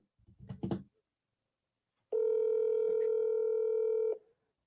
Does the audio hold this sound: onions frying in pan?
no